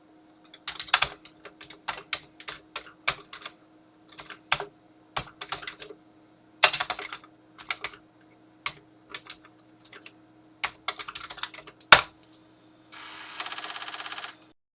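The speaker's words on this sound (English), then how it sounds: "I'm going to format my scratch disk using the 2031 drive" A Commodore 2031 floppy drive formats a disk, making irregular runs of sharp mechanical clicks and clacks with pauses, then a short buzzing whir at the end.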